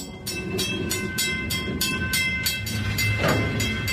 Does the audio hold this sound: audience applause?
no